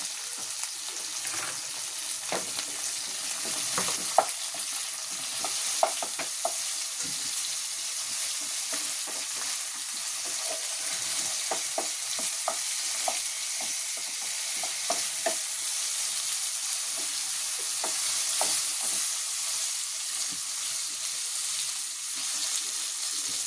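Masala with turmeric sizzles and crackles in hot oil, with sharp pops and spatters scattered over a constant frying hiss; no voices.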